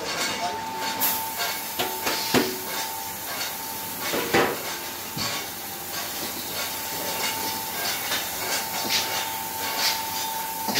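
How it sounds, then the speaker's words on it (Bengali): A six-pan puffed rice roaster machine runs with a steady hissing, rushing roar and a constant mechanical hum, broken by occasional clanks and rattles across the whole stretch. "6 কড়াইয়ে চাল গরম হবে এবং রোস্টারে মুড়ি ভাজা হবে।"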